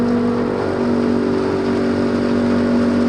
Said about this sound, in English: this is kind of how a silo unloader works here.